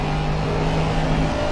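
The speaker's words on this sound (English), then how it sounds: "it would be pretty tough to find a car that sounds better than this Aston" Aston Martin race car engine at a track in Valencia, a steady loud drone holding one pitch, heard alone with no talk over it.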